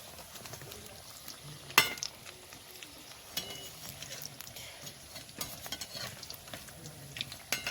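Mini samosas frying in oil give a faint, steady low sizzle, broken by a few sharp clicks and knocks from the pan or utensil.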